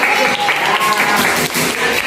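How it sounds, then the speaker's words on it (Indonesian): Applause from a group in a classroom coaching session fills the clip, a dense steady patter of many hands clapping, with a faint background voice mixed in. "tepuk tangan silakan"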